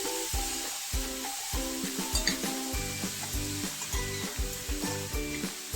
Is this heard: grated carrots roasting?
yes